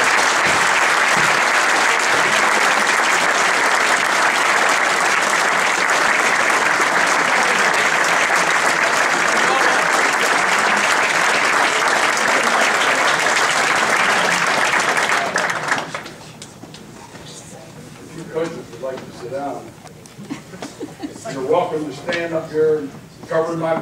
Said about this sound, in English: Can we have a final cheer for the senior class?